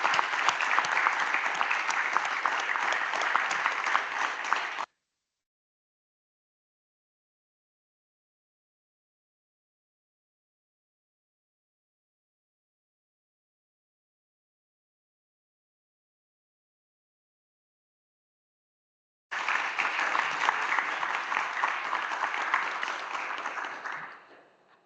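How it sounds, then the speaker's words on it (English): A large crowd applauds at the AI Innovation Grand Challenge award ceremony as an honoree is welcomed to the stage: about five seconds of steady, dense clapping, a long stretch of silence, then another burst of applause that fades out. "Please join me in welcoming Dr. Addison to the stage with a big round of applause."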